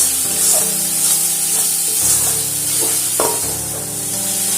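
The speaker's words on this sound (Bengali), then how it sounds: "আবারও সমস্ত মশলা একসঙ্গে নাড়াচাড়া করে একটু ভেজে দেবো" Spices and potatoes are stirred and fried together in a pan, a steady close sizzle broken by several scraping strokes of the spoon, with no voices.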